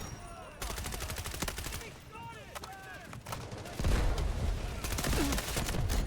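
Rapid bursts of hip-fired gunfire in the shooter game Delta Force, crackling in quick volleys across a busy battlefield with heavier shots near the end and no talking.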